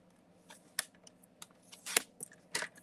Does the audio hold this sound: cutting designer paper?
yes